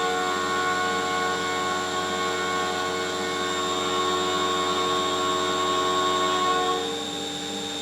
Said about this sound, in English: After it finishes that facing operation, it's going to turn off that spindle, move back up, orient that spindle again.